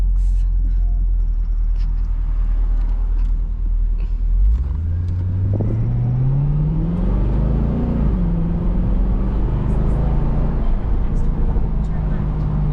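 A tuned Cadillac CTS-V accelerates on the road, its engine tone sweeping upward with a rising supercharger whine over a deep rumble, close and loud from inside the car, with people talking at times.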